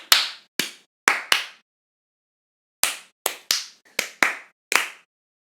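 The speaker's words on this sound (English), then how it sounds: "Should we clap?" Two or three people clapping their hands in a studio, ten sharp, separate claps in two bursts with a pause between, close and loud against silence.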